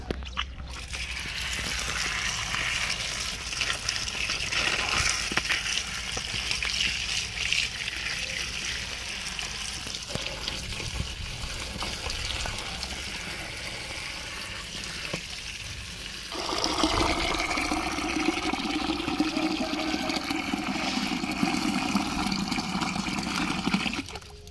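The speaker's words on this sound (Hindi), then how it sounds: "पानी ज़्यादा पै गया" Water from a kitchen tap pours steadily into a vessel while potatoes and eggs are being prepared at home, a continuous close splashing rush that shifts to a fuller, deeper filling tone partway through.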